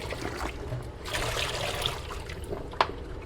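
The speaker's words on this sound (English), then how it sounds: "we'll give them a wash. Soak them in first." Running water trickles and splashes steadily into a sink to soak dirty silicone baking mats, a close continuous wash of liquid with a brief louder splash near the end.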